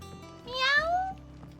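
A single drawn-out cat meow with a rising then falling pitch sounds clearly over a quiet background with faint music, from the Final Fantasy XVI video game.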